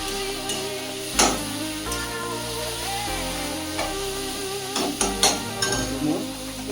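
Pork pieces fry in gravy and spice paste in a pan, a steady low sizzle broken by several sharp stirring scrapes and utensil knocks against the metal.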